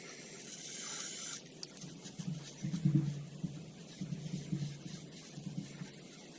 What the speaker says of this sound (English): I don't want to spray too much up in there